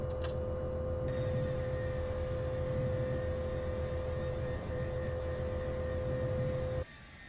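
Lockheed L-1011 jet engines running in a flight simulator game, a steady whining, rumbling drone with a constant tone that cuts off abruptly near the end.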